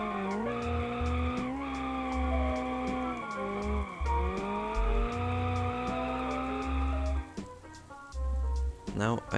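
A car drifting in the BeamNG video game, its engine held near redline in a loud, buzzing wail that dips and climbs, with tyre squeal and rhythmic clunks before a sharp drop-off near the end.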